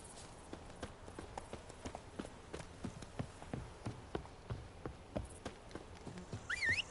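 Horse hooves clip-clop at a steady walking rhythm across a stretch of ground in The Witcher 3: Blood and Wine, close and even, with a faint chirping of insects beneath and no talk.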